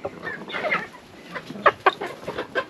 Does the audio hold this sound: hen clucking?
yes